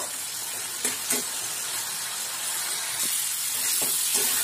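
A spice paste for mixed vegetable curry is stir-fried over a high flame, hissing and sizzling continuously up close, with a few short scraping stirs breaking through the steady frying sound.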